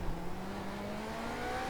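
A GTP prototype race car engine in the iRacing sim at Algarve pulls steadily as the throttle is reapplied, a continuous rising drone with no speech over it.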